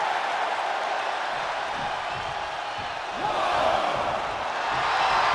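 A wrestling arena crowd at a WWE SmackDown match during Bianca Belair versus Nia Jax, a broad roaring din of cheering voices that holds steady and swells slightly toward the end.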